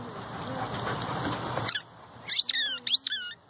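A squeaky dog toy gets squeezed during a game of fetch with a dog, a few sharp, high squeaks in quick bursts following a stretch of noisy scuffling.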